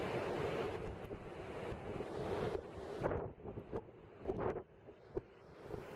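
Storm waves pound the coast during Super Typhoon Yagi in Hainan, a loud continuous roar of surf and buffeting wind, with several heavy surges crashing in toward the end.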